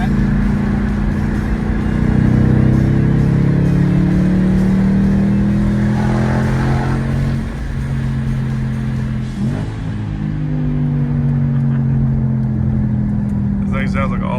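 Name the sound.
Ford Mustang Mach 1 engine revving while driving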